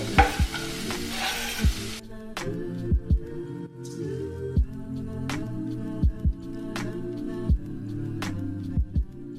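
Diced white onion in sesame oil frying in a pan over medium heat, a steady low sizzle with repeated scraping stirs of a utensil against the pan at a loose, regular pace, close up and with no talk.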